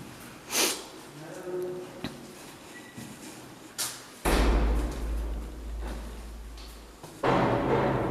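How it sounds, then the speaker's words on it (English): A door thuds shut somewhere nearby in the old Brushy Mountain prison, with a few sharp knocks and bumps set against a low rumbling background. "Did you shut a door or something?"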